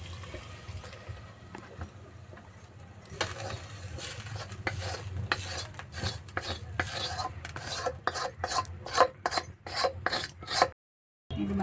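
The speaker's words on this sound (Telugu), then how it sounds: "మంచిగా కలుపుకోవాలి మటన్లో మొత్తం కలిసేటట్టుగా ఆయిల్ మొత్తం దీంట్లో కలవాలి" A spoon stirs hot oil tempering of onion paste, mint and bay leaf into a pot of mutton curry, giving a continuous rasping scrape that grows into rapid rhythmic scraping strokes with soft sizzling, close and without talk.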